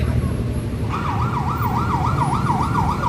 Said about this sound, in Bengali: অ্যাম্বুলেন্স তো অ্যাম্বুলেন্স চলে আসছে